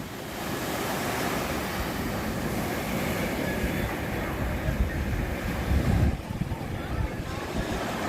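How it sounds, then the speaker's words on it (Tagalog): Ocean waves and wind on open water around a fishing boat near a reef, a steady broadband wash with gusting wind noise and a heavier surge of surf near the end. "Yan ang alon."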